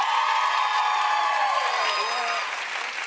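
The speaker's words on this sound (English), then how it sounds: "Clap if you think it ought to be Mark." A studio audience claps and cheers to vote on a contestant, a dense, loud burst of applause with whoops that holds steady and then eases slightly toward the end.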